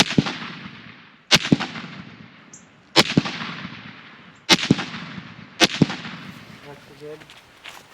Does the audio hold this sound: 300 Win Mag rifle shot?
yes